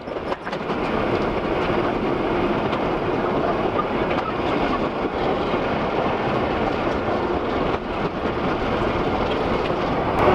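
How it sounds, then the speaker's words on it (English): The Mornington Tourist Railway train rolls steadily into Moorooduc station, a loud, continuous rumble of wheels and carriages close by, with no break for the whole stretch. "As you can see, the train is now approaching the platform."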